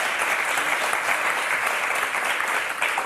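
Dense, continuous applause from a television game show studio audience, loud and steady throughout with no breaks, a faint voice barely present beneath the clapping.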